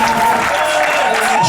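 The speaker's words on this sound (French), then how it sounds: "On acclame le Seigneur." Church congregation applauding during a worship service, steady dense clapping filling the space with crowd noise and a sustained tone beneath, continuous and fairly loud throughout.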